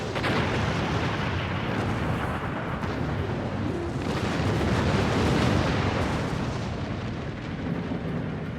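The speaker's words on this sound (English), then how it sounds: "Ah, torpedo!" Torpedo hits and explosions from a Star Trek Online space battle form a dense, continuous roar of booms and rumbling blasts with no pauses.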